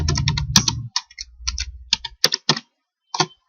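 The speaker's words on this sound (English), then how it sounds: "Over here, I type the title as my" Close, crisp clicks of a computer keyboard as a title is typed, arriving in quick irregular bursts with short pauses and a low hum under the first half.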